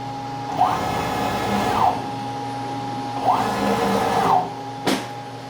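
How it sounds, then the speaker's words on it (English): A 563 oz stepper motor driven by a Leadshine driver runs at 100 inches per minute, giving a steady electric whine and hum with rising and falling sweeps as it moves twice, then a sharp click. "Now, that is the small 563 ounce stepper motor."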